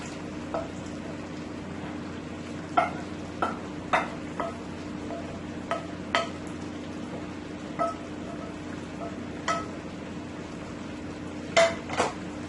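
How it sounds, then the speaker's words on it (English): Chicken pieces simmer in a pot of Guyanese black-eyed peas and chicken stew while a utensil stirs and scrapes, giving scattered metallic clinks and knocks over a steady low hum of cooking. "my chicken is cooking up nicely here"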